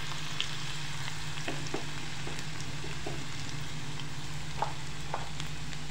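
Garlic and cumin seeds fry in hot oil in a pan, giving a soft, continuous sizzle with scattered small pops and crackles, heard fairly quietly on its own.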